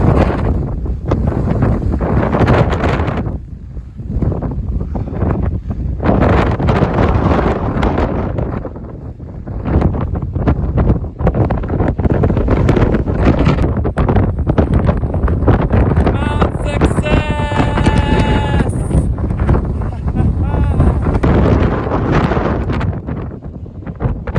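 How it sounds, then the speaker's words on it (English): Strong wind on the Appalachian Trail in Maine buffeting the microphone in loud, continuous roaring gusts, with a brief dip before the blasts return; a faint chirping tone surfaces midway. "it is getting super duper windy"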